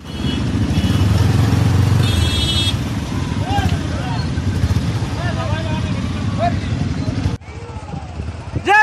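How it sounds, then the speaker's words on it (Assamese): Motorcycles ride in a Vishwa Hindu Parishad bike rally in Assam, their engines droning steadily close by under a crowd's shouting and chanting voices, with a vehicle horn sounding near the start. "আজি আমি যাই আছো বজৰংগৰ পৰা বাইক ৰেলী"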